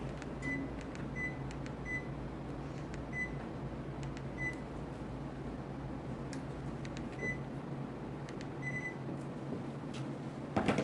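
An indoor air conditioner runs with a steady, low, even hum filling the room, while faint short electronic beeps recur intermittently over it.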